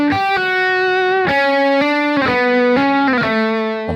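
Electric guitar chords through Kemper Profiler delay and reverb effects only ring out drenched in echo and reverb, each strike smearing into a washy, sustained tail.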